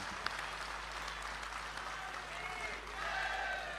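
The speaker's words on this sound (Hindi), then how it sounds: "तालियां थोड़ी और मिल जाती हैं, अच्छा था।" An audience at a poetry recital applauds, a soft, steady wash of clapping heard from a distance that swells a little toward the end.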